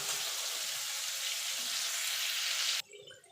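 Prawns frying in hot oil give a dense, loud, steady sizzle that cuts off abruptly near the end, leaving quiet room sound.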